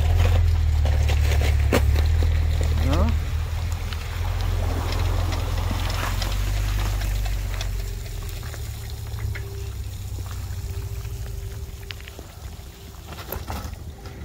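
A Mercury 40 jet outboard motor on an inflatable PVC boat runs steadily on the water, a loud continuous engine drone with splashing water that eases slightly toward the end.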